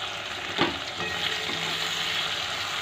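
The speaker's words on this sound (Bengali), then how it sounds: "পেঁয়াজটাকে একটু লাল করে ভেজে নেব।" Chopped onions salted and frying in oil sizzle steadily and close by, with one brief scrape or stir early on and no talking.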